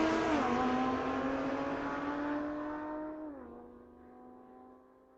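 A 2018 Audi and a 2014 Roush race side by side at a street-legal drag night at Mission Raceway Park, one loud engine roaring steadily with a strong tone, then dropping in pitch and fading off into the distance.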